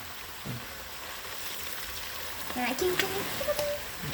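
Oil frying in a pan while being stirred with a spoon during home cooking of a meat-and-potato roast, a soft steady sizzle with faint clinks and a brief voice near the end.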